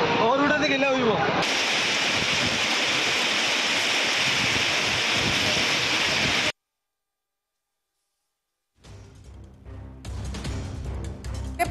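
Heavy rain and stormy wind sweep over Mumbai in a loud, steady roar of hiss and gusts that cuts off abruptly into silence, followed by fainter, broken outdoor noise.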